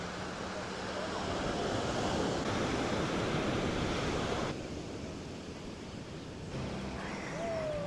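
Sea waves washing onto Ko Samet beach in Thailand, a steady, full rush of surf up close with wind over the microphone, easing slightly partway through and building again.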